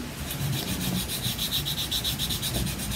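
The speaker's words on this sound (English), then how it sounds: "I'm just gonna rub this one down with my finger because all my squeegees are dirty now." A finger rubs a chalk transfer down onto a craft surface, giving a steady, close, dry scraping rasp in rhythmic strokes with no talk.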